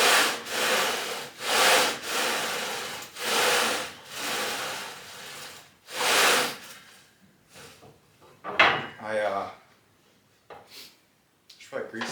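A leg press machine in need of grease squeaks and grinds in slow, regular strokes about a second apart. The repetitions stop near the end and are followed by a few scattered clunks.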